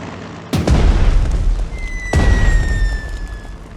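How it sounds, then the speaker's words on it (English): Two heavy booms from a bomber striking enemy artillery in Strategic Mind: The Pacific, each a sharp loud blast followed by a rumbling tail, the second coming about one and a half seconds after the first. "It is high time for the aerial bombardment of the enemy artillery. Select the bomber and attack it."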